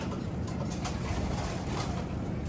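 Young pigeons cooing in a loft, soft throaty coos blending into a dense, close murmur of birds over a steady background hiss.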